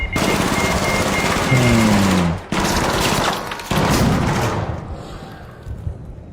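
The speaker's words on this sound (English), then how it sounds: "The turret shooting me, bro?" A video game turret fires at the player in a loud, continuous stream of rapid shots, with brief breaks around the middle and the barrage tapering off toward the end; no talking over it.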